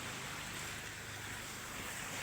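Waves wash against the shore in a dense, continuous roar of surf with wind noise buffeting the microphone, loud and unbroken for the whole moment with no voices.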